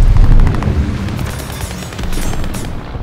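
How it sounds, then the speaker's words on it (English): A grenade blows up in Call of Duty Vanguard with a loud, deep boom, followed by rumbling debris and the ongoing noise of battle in the game. "Tossing grenade."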